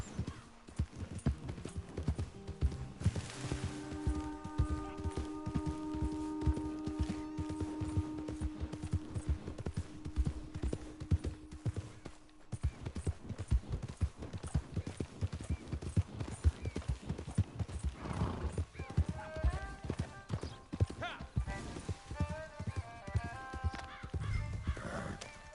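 Horse hooves clip-clopping in a steady galloping rhythm in Red Dead Redemption 2, loud and continuous, with occasional whinnies and game music tones layered over the hoofbeats; no talking.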